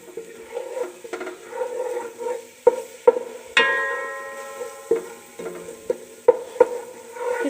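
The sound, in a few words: garlic and spices sautéing in oil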